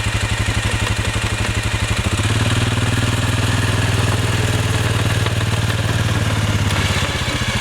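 A Suzuki King Quad ATV idles in wet snow while its winch hauls up a snow plow blade, a steady close engine chug joined partway through by a sustained, even motor drone.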